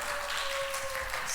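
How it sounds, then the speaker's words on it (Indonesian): A church congregation applauds during a Sunday worship service, a brief, dense wash of clapping with a steady tone sounding beneath it. "Tepuk tangan buat Tuhan Yesus"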